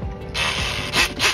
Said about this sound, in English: And our weapon of choice is the oscillator.